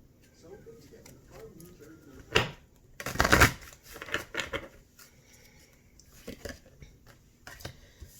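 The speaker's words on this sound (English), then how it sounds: "I'm going to pull some chakra filling cards." Chakra oracle cards being shuffled and pulled, with soft papery riffles and a sharper flurry of card noise midway, close and fairly quiet over a low background.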